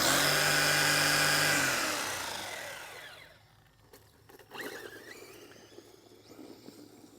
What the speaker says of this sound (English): Just basically motor hum.